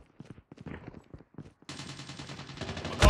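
Rapid gunfire in Call of Duty: Mobile during a ranked match: scattered shots first, then a sustained automatic burst ending in a loud blast, close and dense.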